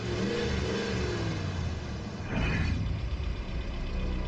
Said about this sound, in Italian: il mistero del motore che accelerava